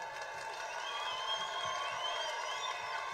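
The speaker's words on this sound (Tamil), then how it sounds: "கரகோஷத்துடன்" Applause and crowd noise fill a political party general council meeting, a dense, steady clapping texture heard from some distance at moderate loudness.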